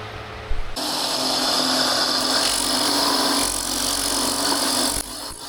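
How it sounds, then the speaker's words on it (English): A power tool grinds steadily at a polyurethane swimbait blank cast from a mold, a loud, continuous abrasive whine that starts abruptly, holds for about four seconds and then eases off. "Now I can grind this and start working on it"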